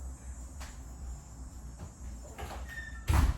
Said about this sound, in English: I need to shut the door.